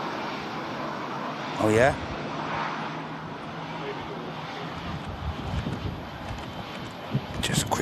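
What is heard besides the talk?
EasyJet aircraft arriving in strong winds, Storm Darragh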